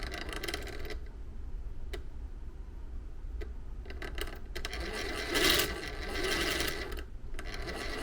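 A small electric motor runs steadily on a home-built gold recovery plant, its continuous whirring hum laced with light ticking and a few louder mechanical swells.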